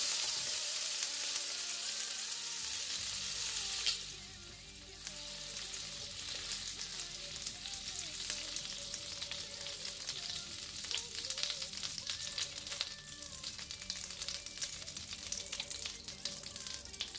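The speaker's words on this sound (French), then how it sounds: "Pendant que mon beurre est en train de fondre" Butter melting into olive oil in a pan, a steady bright sizzle that hisses loudly at first, then settles into a softer, even crackle that continues alone throughout.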